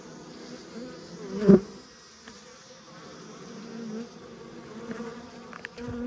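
Bees buzz inside a clear hive, a soft, continuous hum with one brief louder burst as a bee passes close, then a steady faint drone.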